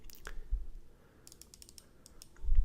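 A computer mouse clicks in quick light taps while someone works in Excel, some bunched together and some spaced apart, close and fairly quiet over a soft low background.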